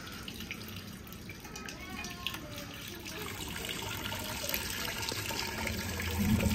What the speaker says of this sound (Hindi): देगची में पानी आ रहा है।